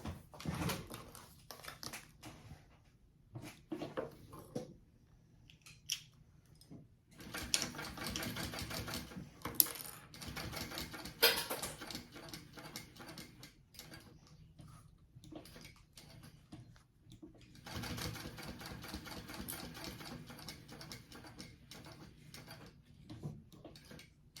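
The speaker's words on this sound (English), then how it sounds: "Okay, I'm going to top stitch that." A sewing machine topstitches a sling bag in several runs of rapid mechanical whirring, with short pauses and quieter stretches between bursts. It is close and moderately loud, with no voices.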